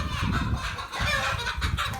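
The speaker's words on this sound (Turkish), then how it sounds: "Tavuk kovaladı gördün mü Zavalos?" Chickens cluck in a busy, continuous stream at a village farmyard while one chases after someone, the calls fairly close and steady throughout.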